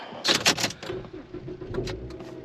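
A cheaply bought auction car starts up: a burst of quick starter clatter, then the engine catches and settles into a low, even idle, heard up close.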